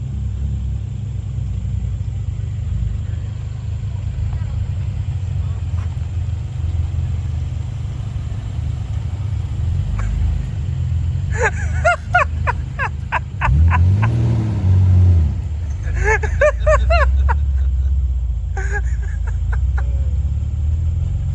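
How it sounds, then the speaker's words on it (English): A Nissan GT-R drives along with a steady low engine rumble that swells into a louder surge midway, while clucking fowl chatter intermittently nearby. "GTR is just out driving by itself."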